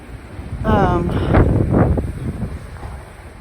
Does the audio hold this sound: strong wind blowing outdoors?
yes